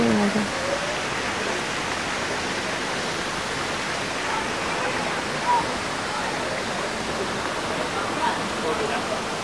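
Mahogany Falls, a natural waterfall in Trece Martires, Cavite, pours in a constant dense rushing roar, loud and steady throughout, with faint voices now and then beneath the water.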